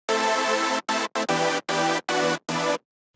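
Layered hardstyle lead synths built in Spire within FL Studio play seven dense, bright staccato notes in a punchy rhythm across about three seconds, alone without talk.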